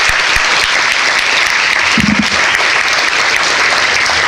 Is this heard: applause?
yes